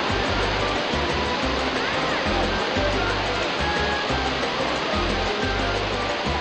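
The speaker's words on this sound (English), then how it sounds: "I just wanted to show you how the waterfall looks like" A waterfall in Puerto Rico's El Yunque rain forest gives a loud, steady broadband rush of falling water, with an intermittent low rumble beneath it and no clear speech.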